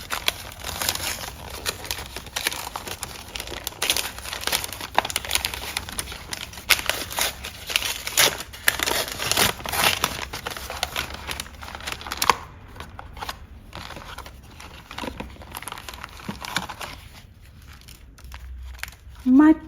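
A plastic wrapper on a present from Japan crinkles and crackles in bursts as it is opened, with a person talking over much of it and quieter gaps toward the end.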